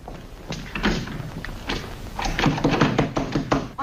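A locked door is rattled and thumped repeatedly, with irregular knocks and clattering bursts that grow busier and louder toward the end, heard close by against a low background hum.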